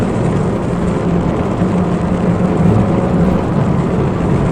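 A rally car on a Targa Newfoundland stage accelerates hard, its engine a loud, continuous low roar heard from inside the cabin with steady rumbling and no break.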